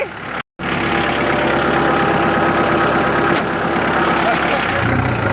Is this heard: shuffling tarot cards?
no